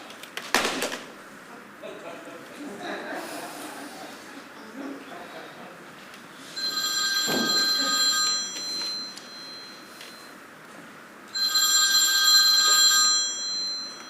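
An old-style telephone bell rings in two long bursts separated by a pause, with faint background noise and occasional thumps between.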